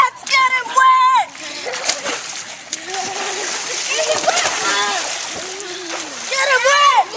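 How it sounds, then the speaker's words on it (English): Water splashes loudly onto a child in a burst of play, sloshing and spattering repeatedly while kids shout and talk excitedly throughout. "I dare you. Splash me."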